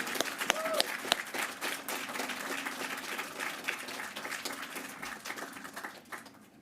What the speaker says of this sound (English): Everybody clap, yell, scream, just whatever would like to do.